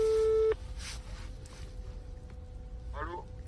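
A steady telephone tone sounds loudly for about half a second and cuts off, leaving faint line noise and a brief warbling chirp near the end.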